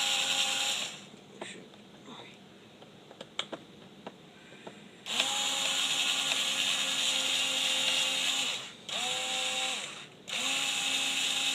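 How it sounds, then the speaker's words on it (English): A power drill drives a screw into model railroad track in three close whirring bursts, one long and two short, in the second half. Light clicks and taps come from the work area before the first burst. "Screwing this in."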